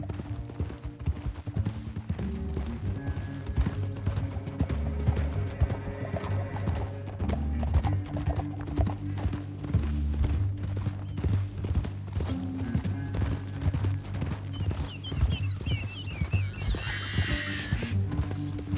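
Steady clip-clop of horse hooves at a trot in Red Dead Redemption 2, with a horse whinnying, layered over a busy background of music and rumbling.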